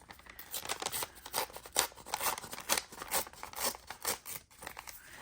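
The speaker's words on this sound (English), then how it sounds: "we're going to tear it down to size" Paper being torn down to size for a junk journal page, a run of soft, rhythmic ripping and crinkling strokes, quiet and close with no voices.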